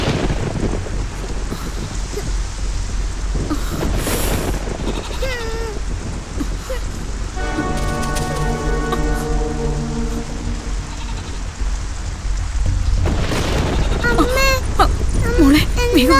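In a Malayalam film scene, rain falls in a continuous, fairly loud hiss that runs throughout, with rumbles and other tonal sounds and voices coming and going over it.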